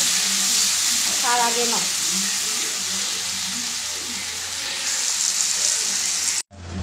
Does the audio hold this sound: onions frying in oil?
yes